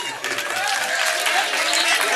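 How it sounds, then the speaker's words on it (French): Audience applause filling the room, a steady dense wash of clapping that rises after a brief dip, with voices and cheering mixed in. "Applaudissez pour vous-même."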